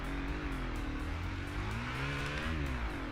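Supermoto motorcycle engines in a racing video game, a loud continuous buzzing drone whose pitch wavers up and down as the bikes speed along, with no talk.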